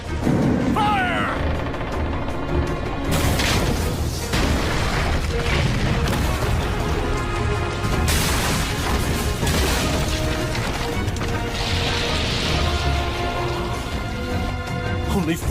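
Loud, dense anime battle effects from a catapult firing ammunition: repeated booms, crashes and mechanical clatter over a continuous roar, with musical swells and occasional shouted voices mixed in.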